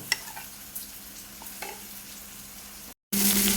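Onion, garlic and ginger sizzling steadily in hot oil in a pan while sautéed for black chana masala, with a few stirring scrapes; close and continuous, ending in a louder burst of sizzle.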